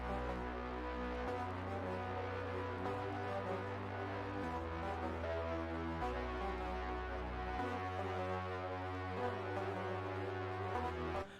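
A dense electronic beat built from layered Serum synth plugin sounds plays continuously, with deep sustained bass notes shifting every few seconds under busy chordal and percussive layers, steady and loud throughout with no talking.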